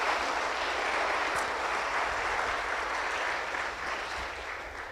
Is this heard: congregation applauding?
yes